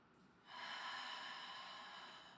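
A single long, steady exhale pushed out through the mouth during a Pilates exercise on a mat, starting after a brief quiet moment and holding broad and airy for about two seconds before slowly tapering.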